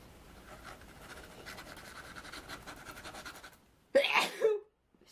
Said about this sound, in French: je pense que je vais encore éternuer